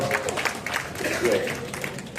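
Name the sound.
residents applauding at a neighborhood meeting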